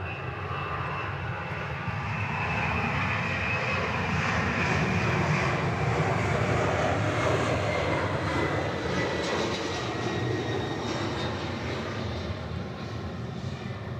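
A fixed-wing airplane takes off from runway 4 right at Honolulu airport, its engine roar broad and steady, a sustained loud rumble from beginning to end with no voices.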